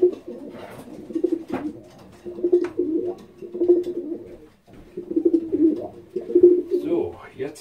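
A racing pigeon in a loft coos in repeated low, rolling phrases, close and fairly loud, with short pauses between bouts.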